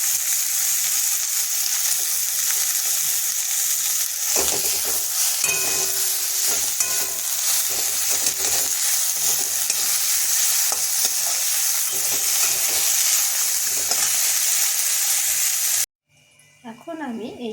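Onions, ginger-garlic paste and tomato fry in a pan for chicken biryani, a loud steady sizzle with repeated scraping stir strokes throughout, then a sudden drop to quieter background near the end.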